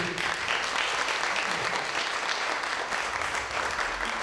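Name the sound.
audience applauding the slam performers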